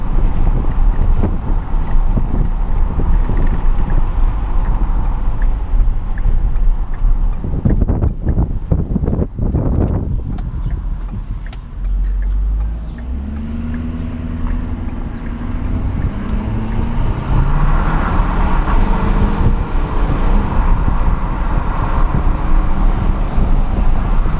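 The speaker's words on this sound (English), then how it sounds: "Wind noise ain't bad. Not a lot of air really hitting you." Wind rushes steadily inside the cab of a 2014 Ford Super Duty 6.7L turbo diesel pickup while driving. The broad, constant roar dips briefly midway, and a low humming engine tone rises under it before the full wind noise returns.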